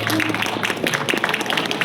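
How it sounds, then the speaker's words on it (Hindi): An audience claps steadily at a Subah-e-Banaras music performance, a dense, even spatter of applause that continues through the whole short stretch. "ताली बजाइए।"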